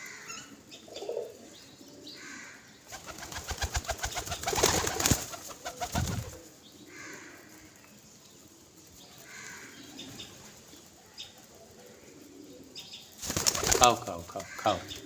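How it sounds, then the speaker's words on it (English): Pigeons at a feeding spot coo softly and burst into loud wing-flapping flurries several times, with quieter rustling and cooing between the bursts. "This pigeon is very possessive."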